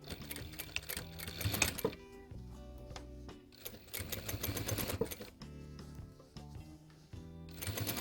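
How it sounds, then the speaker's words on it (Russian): A sewing machine sews a topstitch that secures the facing on a pair of baby overalls, running in bursts of rapid, even stitching with brief pauses between runs, close and clear with no talking. "И прокладываем отделочную строчку, закрепляя обтачку"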